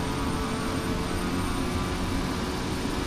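Simulated aircraft engine in the FSX flight simulator, a steady broadband drone with no other sounds over it. Power is being pulled back for descent.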